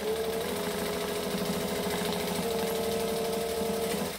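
A sewing machine runs steadily at close range, stitching a curve on a bag, its rapid mechanical stitching chatter continuous throughout with no pauses.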